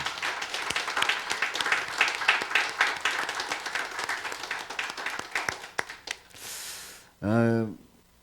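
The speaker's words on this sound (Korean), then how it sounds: "우리 찬양단, 우리 박수로 격려합니다" A church congregation at a New Year's Eve worship service claps for the praise team, brisk applause that thins out and dies away before a voice briefly speaks.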